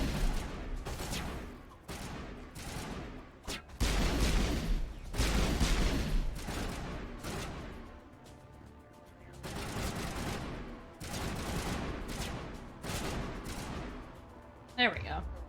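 Mass Effect gunfire on Eden Prime, bursts of rapid shots coming in loud volleys separated by brief lulls, with a person talking over parts of the fighting.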